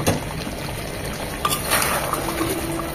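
Chicken with peanut paste in a pan for Kashmiri chicken masala is stirred, giving soft scraping and a faint bubbling sizzle, fairly quiet with occasional spoon knocks.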